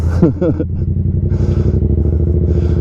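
Motorcycle engine pulling a power-up wheelie, a close, loud, throbbing exhaust with a quick rev early on, then a steady pulsing drone, with a rider's voice over it.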